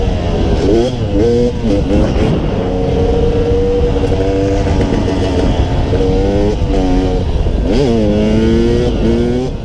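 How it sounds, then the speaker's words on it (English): Dirt bike engine at high altitude revving hard in repeated surges as the rider wheelies over small obstacles, loud and close, with throttle blips rising and falling throughout. "the bike still has enough power and is running well enough to wheelie through these little obstacles"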